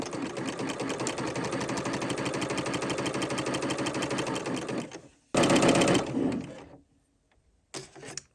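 A BERNINA L 890 overlocker sews yarn cording in a fast, steady mechanical whir for about five seconds. The machine stops, then gives a short louder burst and a brief final run, each followed by near silence.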